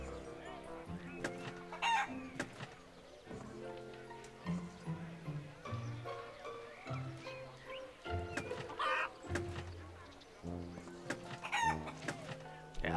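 A golden goose in the video game Wallace & Gromit's Grand Adventures: repeated squawking, clucking and crowing-like calls over looping game music, with short bursts recurring throughout.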